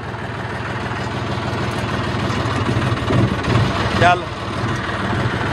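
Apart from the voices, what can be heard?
paddy harvesting machine engine idling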